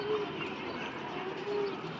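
A pigeon at a bird market coos softly a couple of times, its low calls set against a busy murmur of background noise.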